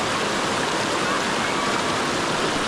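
A river flows in a steady, dense rush close by, a constant broadband wash of water with no pauses and no voices.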